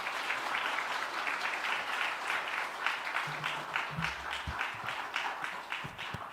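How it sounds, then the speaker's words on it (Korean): Warm, steady applause from a church congregation welcoming a visiting pastor, sustained claps filling the hall for several seconds, with a few faint voices underneath. "따뜻한 박수로 목사님 청해서 말씀드리도록 하겠습니다"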